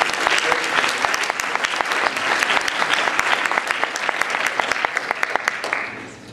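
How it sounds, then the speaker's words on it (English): An audience applauds a lecturer at the close of a class, loud continuous clapping from many people with individual sharp claps standing out, steady throughout before tapering off at the end. "I'd like a round of applause"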